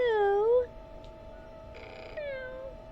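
A cat meows close by beside a backyard in-ground spa, with a long wavering meow up front, then a softer drawn-out call later amid quiet surroundings.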